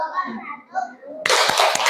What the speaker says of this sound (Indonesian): Yuk, kasih tepuk jempol dulu buat diri sendiri.